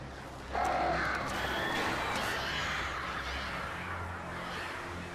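Crows caw in a dark woodland scene in Alan Wake Remastered, harsh calls rising over a rustling flutter of wings and a low ambient rumble.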